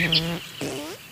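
A human voice imitates the call of a common whitethroat in two short, harmonic, squawking bursts of about a second, close and fairly loud.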